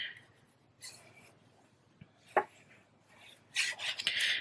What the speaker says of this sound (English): I'm going to flip it over and give it a rub on the back also